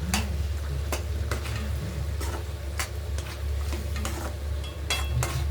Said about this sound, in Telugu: టమాటా ఆనియన్ అల్లం వెల్లుల్లి ఇది కూడా వేసుకుందాం దీంతో పాటు బాగా వేగుతుంది